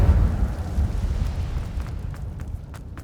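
An Incendio fire spell is cast in a video game, giving a loud burst of rumbling flame at the start that fades into crackling, with small popping sounds toward the end.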